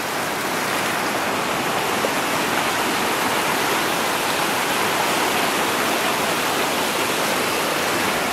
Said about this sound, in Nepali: यो खोला माथिबाट अझै पनि उर्लिएर आउँदैछ